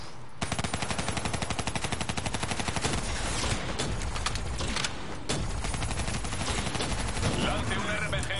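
Sustained rapid automatic gunfire from the Call of Duty Black Ops III video game rattles continuously for several seconds, dense and loud, with overlapping bursts and explosive impacts throughout.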